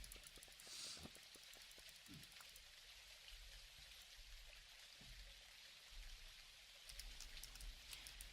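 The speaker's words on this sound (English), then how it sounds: "I think it's just rain, so we're good." Rain falling in the farming game Dinkum, a quiet, even patter with scattered droplet ticks and soft splashes continuing throughout.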